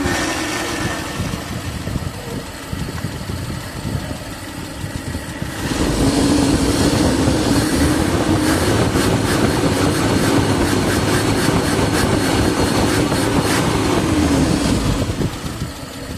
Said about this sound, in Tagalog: Start itong makina.